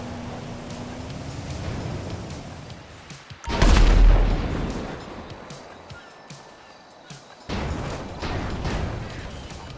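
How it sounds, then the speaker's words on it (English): An Alkonost aircraft blowing up in GTA 5 as its wings clip into terrain, a single heavy boom with a rumbling tail over a hissing background, and a second softer burst of noise a few seconds later. "This results in its wings clipping into terrain, which causes it to explode."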